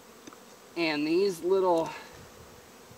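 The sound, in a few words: honey bees buzzing at a beehive inspection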